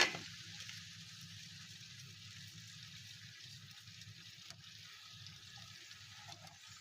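Sliced onions and potatoes frying in a frying pan over low heat, a faint, steady hiss and crackle just after a brief louder start, continuing evenly with no talk.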